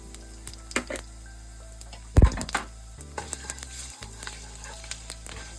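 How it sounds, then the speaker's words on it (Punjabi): Cumin seeds sizzle and crackle as they roast in a hot pan for a restaurant-style paneer lababdar, with steady frying hiss, a louder burst of sizzling and occasional stirring clinks, heard close with no talking. "ਆਪਾਂ ਇੱਕ ਚਮਚ ਪਾਉਨੇ ਇਹਦੇ ਵਿੱਚ ਜੀਰਾ ਇਹਨਾਂ ਨੂੰ ਆਪਾਂ ਹੁਣ ਭੁੰਨ ਕੇ"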